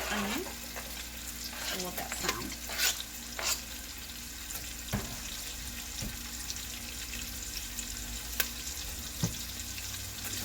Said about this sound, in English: We will add the onion. I love that sound.